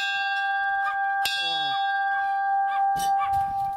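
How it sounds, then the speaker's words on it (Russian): A church bell rung by pulling its rope gives a sharp clang and a ringing tone that sustains throughout, alongside a small bell, with people talking nearby. "Ну-ка, колокольчик позвони, еще колокол."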